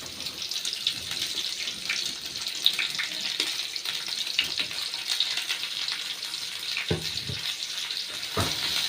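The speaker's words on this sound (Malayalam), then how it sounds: "എണ്ണ ഒഴിച്ചു." Oil is poured into a pan on the stove for egg curry, making a quiet, steady liquid trickle and low sizzle with a few scattered clicks and taps.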